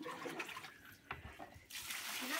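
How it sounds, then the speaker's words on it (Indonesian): Water splashes and pours over freshly caught shrimp to rinse off thick mud in Kalimantan, a close, continuous watery rush that grows louder and fuller toward the end. "Lanjut kita siram-siram guys biar agak-agak bersih dia"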